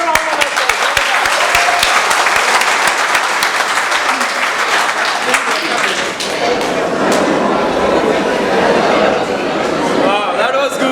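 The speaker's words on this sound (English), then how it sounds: "all of you give yourself a round of applause" A round of applause from a seated audience at a hotel management institute session, loud dense clapping that runs unbroken for about ten seconds with a little chatter and cheering mixed in.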